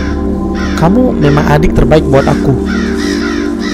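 Crows caw several times in a short rising and falling series, loud and up front, heard while a person talks over them.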